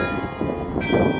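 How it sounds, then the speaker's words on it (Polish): Church bells ringing at St. Martin's church, a tower said to hold about fifty bells, a brief burst of resonant, sustained tolling tones, fairly loud, with no talking. "Akurat mamy szczęście, dzwony grają."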